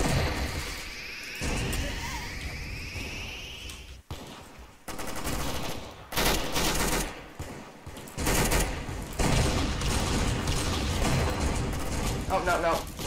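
Rapid gunfire from a weapon with wild recoil in the online shooter Arsenal, dense bursts of shots and automatic fire crackling almost continuously, loud and close, with a player talking over the action.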